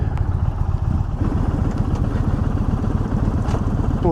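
An Indian Challenger Dark Horse bagger motorcycle idles nearby, a steady low rumbling throb with mechanical clatter and a few faint clicks over it, no voices.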